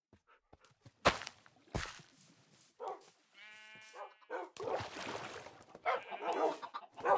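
Chickens cluck in a blocky video-game world, a scattered run of short clucks and squawks. A sheep bleats in the middle, and a few sharp clicks and hits come through at moderate volume.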